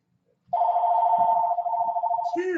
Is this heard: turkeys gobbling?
no